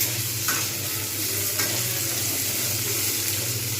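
Papaya and potato pieces sauté with spices in a pan, an even, close sizzle under steady scraping stirs with a couple of light utensil clinks.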